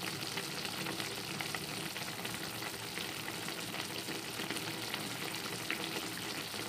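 Milkfish paksiw na bangus cooking in a pot, giving a steady, dense bubbling hiss that stays even and fairly close with no voices over it.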